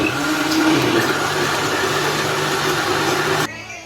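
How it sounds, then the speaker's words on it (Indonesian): Kitchen blender whirring steadily for about three seconds with a droning motor hum, then cutting off abruptly near the end. "blender."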